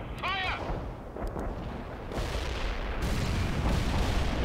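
Artillery and gunfire in the World in Conflict video game, heavy booming blasts and crackling shots rolling continuously at mid distance, with a brief radio-style voice chirp near the start.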